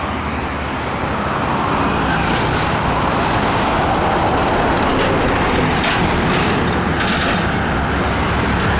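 Heavy traffic on a street in Cambodia, with many cars driving past in a continuous loud roadway rumble and swelling passes of engines and tyres, and no talking.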